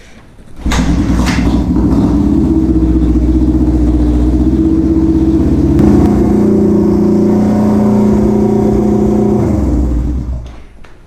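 A 1973 Honda CL350 motorcycle engine idles high after starting: a loud, steady, close drone that holds for about ten seconds, then drops away as the engine shuts off.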